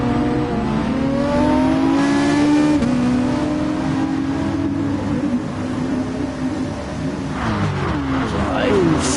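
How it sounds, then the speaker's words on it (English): Race car engines in a racing video game rev steadily at high pitch, then climb as the cars accelerate away from the start, loud and continuous with a faint voice underneath. "The revs are up"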